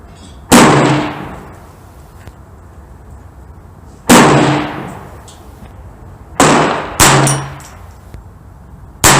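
Browning Buck Mark .22 handgun fired at 50 yards on an outdoor range, five sharp, loud cracking shots spaced a few seconds apart, each with a brief ringing decay.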